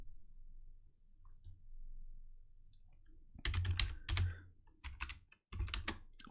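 Keystrokes on a computer keyboard at a Windows command prompt, quiet hum at first, then bursts of loud close clacking in short clusters separated by brief pauses.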